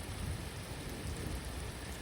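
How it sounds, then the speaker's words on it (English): Heavy storm rain pours steadily as a dense, loud wash with low rumbling underneath, an unbroken downpour effect from an audio drama with no voices. "The rain's kind of relaxing, actually. It's got a rhythm to it."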